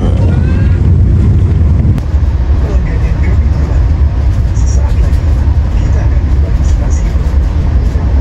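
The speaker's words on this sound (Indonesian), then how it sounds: "Papasan kereta api komuter lain" Loud, continuous rumble and roar of a passing commuter train heard from on board another train near Walahar, Indonesia, with heavy wind buffeting and no pauses.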